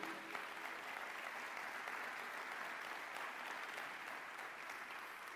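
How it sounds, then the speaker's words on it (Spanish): Sustained applause from a church congregation during a Spanish-language sermon on stewardship, steady and dense throughout with a broad, even wash of clapping and no break. "Denle un aplauso al Señor"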